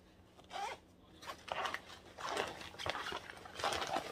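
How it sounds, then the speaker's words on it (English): A zipper on a shoe compartment travel bag being pulled open in several short, close rasping strokes separated by brief pauses, fairly quiet with no talking. "And then it has another zipper."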